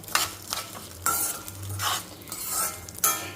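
Fenugreek seeds and coriander fry in a pan for a curry-leaf spice powder, sizzling softly under repeated scraping stirs of a spoon against the metal. No voices are heard.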